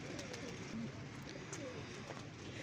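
Doubas pigeon cooing softly in a low, continuous murmur at close range, with faint bird calls and background noise throughout.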